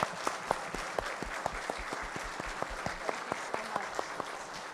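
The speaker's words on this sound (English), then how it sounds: "I want us to clap for her for being on the cover of Forbes India" An audience at a food industry forum in India claps for a woman featured on a magazine cover, a steady wash of hands with a few sharper individual claps standing out, moderately distant and without talk.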